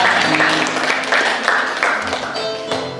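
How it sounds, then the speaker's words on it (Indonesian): Loud church congregation applause during a sermon, with dense, sustained clapping for about three seconds, a few voices and tonal sounds mixed in. "Kasih tepuk tangan buat saudara kita."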